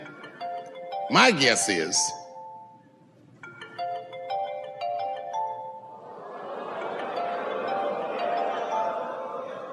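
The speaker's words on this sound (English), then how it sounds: "Go on and answer your phone" A cell phone in the audience at a Dave Chappelle stand-up comedy show plays a short melodic ringtone, which repeats before crowd laughter and murmuring swell up. A voice speaks briefly.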